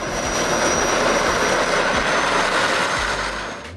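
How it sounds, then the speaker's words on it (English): An Open Sky M02J jet-powered mini aircraft, a winged scooter-like craft, makes a loud, continuous jet engine whine and roar that holds steady throughout and eases slightly at the end. "The Open Sky M02J is hard to call a full-fledged aircraft. It's more like a scooter with wings."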